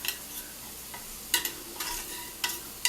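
Onion and garlic sauté in a frying pan for a pork chop dish, giving a steady close sizzle broken by several sharp scraping strokes of a stirring utensil.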